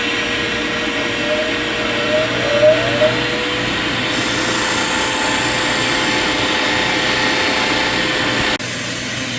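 A steady, continuous mechanical whir of a power sander grinding a bronze knife blade, loud and close, running without a break and cutting off near the end.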